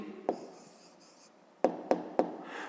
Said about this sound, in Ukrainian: Тепер записуємо відповідь. Пишемо відповідь.